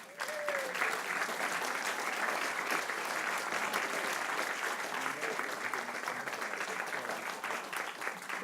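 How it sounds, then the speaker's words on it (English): An audience applauds to welcome a former National Guardsman to the stage, with dense, continuous clapping that stays even and fairly distant throughout. "I'd like to ask you to welcome Robert Thompson, former National Guardsman."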